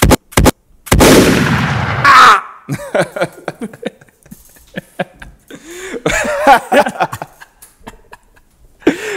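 Several sharp, loud gunshot bursts ring out at the start, followed by people talking and chuckling, with another burst of noise partway through.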